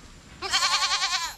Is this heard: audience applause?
no